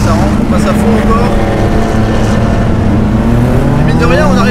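Porsche 911 SC engine held at full throttle on the Lohéac circuit, a loud, continuous in-car roar with steady rising harmonics, someone talking over it throughout.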